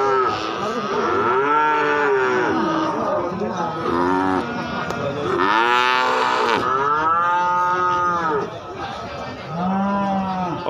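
Cattle at the Gorang Gareng cattle market in Magetan, East Java, lowing repeatedly with several long moos, some close and loud, over a busy market background murmur.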